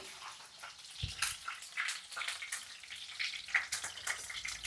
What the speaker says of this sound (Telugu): ముందు ఎండ్రాయిలు వేపేసుకుందాం.